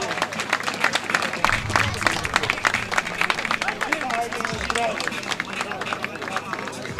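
A crowd applauds a 3x3 basketball team from Kragujevac at a 3x3 street basketball tournament. The clapping is dense and sustained throughout, and a public-address announcer talks over it.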